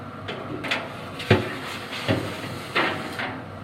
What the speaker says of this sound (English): I'm going to go ahead and put the bottom grate in now.